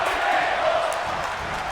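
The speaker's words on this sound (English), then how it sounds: "Crowd chanting for tables." A wrestling crowd chants for tables, a loud, dense, sustained roar of many voices filling the arena, brief and without a break.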